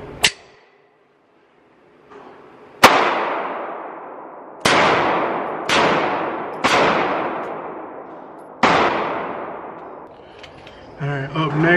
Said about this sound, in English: So now I'm gonna get some rounds in with the Beretta.